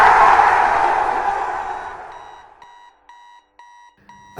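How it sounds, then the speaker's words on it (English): Digital alarm clock beeping in a short, evenly spaced series of bright electronic bleeps, heard alone after a broad noisy wash fades away. "A clock bleeps softly, sending alarm bells to the night that its time is nearly up."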